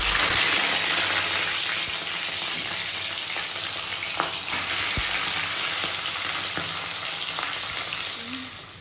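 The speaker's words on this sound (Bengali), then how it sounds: "তেল দিয়ে দিয়েছি, ফার্স্টে মাথাটাকে ভেজে নেব।" A fish head fries in hot oil with a loud, continuous close sizzle and occasional small pops, steady throughout and fading slightly at the end.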